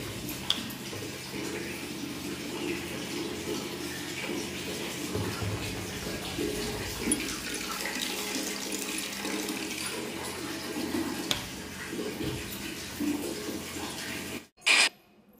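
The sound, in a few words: water running from a tap into a bucket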